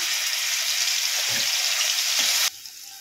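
Ginger paste hits hot oil where cumin seeds and dried red chillies are frying for a vegetarian Malabar spinach curry, giving a loud, steady sizzle with a couple of soft stirring thuds before the hiss drops away abruptly near the end.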